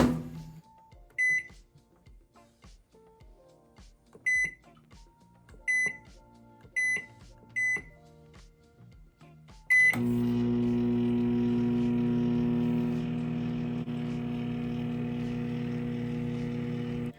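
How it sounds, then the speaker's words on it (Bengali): Masoor dal (red lentils) cooking in a microwave oven: a few short keypad beeps, then a loud, steady electrical hum with a low drone that runs on without a break. "এবার আমি এটিকে মাইক্রো ওভেনের মধ্যে দিয়ে দিচ্ছি ডালটিকে সেদ্ধ করার জন্য আমি টাইম দেব দশ মিনিট"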